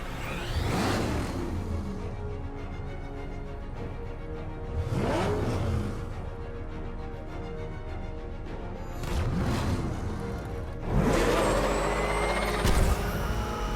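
A military vehicle in a chase in Batman: Arkham Knight roars past in several loud surges, engine noise swelling and fading repeatedly over a steady rumbling bed, with no talking.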